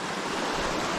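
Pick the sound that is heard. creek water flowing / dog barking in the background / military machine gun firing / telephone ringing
creek water flowing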